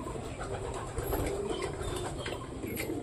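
Pet white pigeons give soft, low cooing sounds in a steady murmur, with faint rustling and no talking over them.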